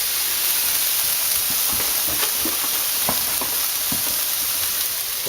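Onions, garlic, mushrooms and prosciutto frying in a pan, a steady bright sizzle with occasional stirring clicks and scrapes, close up and continuous.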